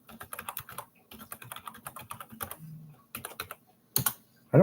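Password being typed on a computer keyboard, a quick, irregular run of close, crisp key clicks in bursts with short pauses, ending in a few heavier keystrokes.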